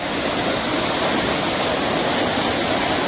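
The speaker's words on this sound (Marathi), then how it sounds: "अरे हा मागे धबधबा" Savdav waterfall at Kankavli roars as a dense, constant rush of falling water, loud and unbroken throughout with no voices.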